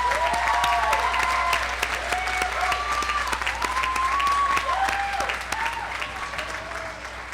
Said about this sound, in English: So let's give a round of applause to our students' families,